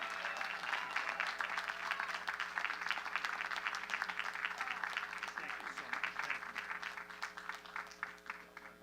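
A large crowd claps steadily at a college commencement ceremony, a continuous wash of applause heard at moderate distance with a faint electrical hum beneath it.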